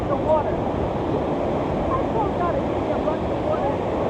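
Ocean surf rolls in and breaks continuously on a South Carolina beach, a steady broadband wash mixed with wind rumble, loud and close throughout.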